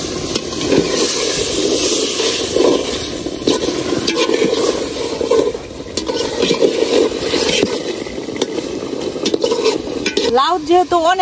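A fish head sautéing and sizzling in a pan with steady frying hiss, stirred and scraped by a utensil throughout, with a clatter of cookware near the end.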